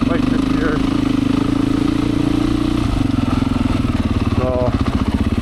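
A Beta 500 dirt bike engine chugs steadily at a loud, close idle with a rough, throbbing pulse throughout, with a brief higher mechanical whine near the end.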